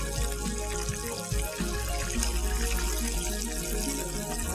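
Chicken coated in batter fries in hot oil, giving a dense, continuous crackling sizzle with rapid pops, close and steady throughout with no talk.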